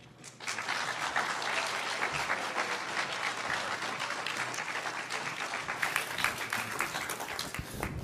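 An audience at a marine chemistry senior symposium applauds after an evening of presentations. Dense, sustained clapping from a roomful of people starts sharply and keeps going evenly to the end.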